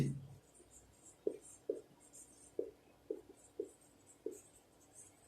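Handwriting of a class four math solution on the area of a rectangle comes through as about seven faint, evenly spaced scratchy strokes, quiet and close, with no one talking over them.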